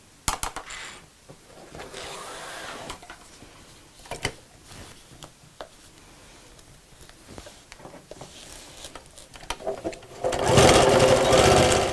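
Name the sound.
sewing machine stitching pocket seams onto backing fabric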